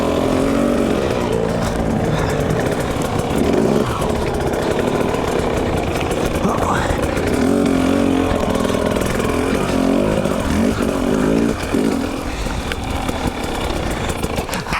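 A 2020 KTM 250 XC TPI two-stroke dirt bike ridden through the desert, its engine droning steadily and loud throughout, rising and falling with throttle changes, with no talk over it.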